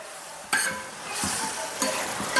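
Lemon pickle being stirred in a pot, several scraping spoon strokes and light clatter over a quiet background hiss, with brief louder bursts at each stir.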